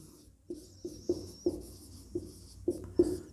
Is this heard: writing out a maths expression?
yes